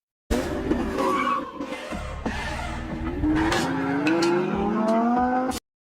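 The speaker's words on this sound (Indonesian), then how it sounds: "Si Okeju dan wanita itu lalu pergi menggunakan mobil si Choi." A car pulls away hard in a film scene, engine revving and rising in pitch with a long harmonic whine and brief squealing tones, loud and close, ending abruptly.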